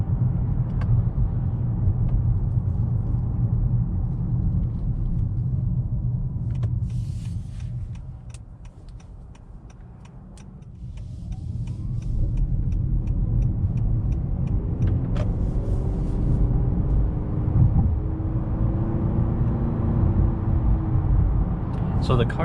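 A 2021 Honda Accord Hybrid on a test drive in eco mode gives a steady interior rumble of road and engine noise that dips briefly midway, with someone talking over it.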